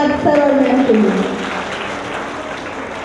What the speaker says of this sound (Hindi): जोरदार तालियां एक बार सर और मैम के लिए